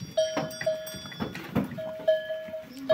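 Goats on a farm bleat in short, repeated calls, several sharp cries close by, with a clanking bell and light rustling between them.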